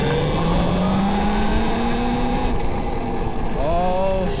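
Electric scooter pulling away from a standstill off-road, a rising whine climbing in pitch over loud wind and rumble, with a second rising whine near the end, under heavy buffeting noise.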